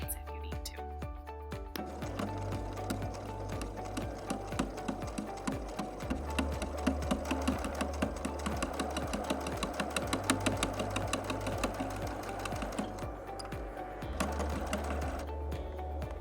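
A sewing machine stitches a fabric mask in a fast, steady mechanical whir and rhythmic needle clatter, starting after a short pause and running nearly continuously nearby.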